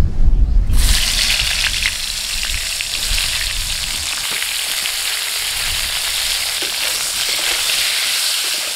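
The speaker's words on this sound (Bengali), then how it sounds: "ওই তেলের মধ্যে পটল গুলো ভেজে নিচ্ছি।" Pieces of pointed gourd (potol), rubbed with salt and turmeric, fry in hot oil with a loud, continuous crackling sizzle that starts with a sharp burst and stays steady throughout, and no voices are heard.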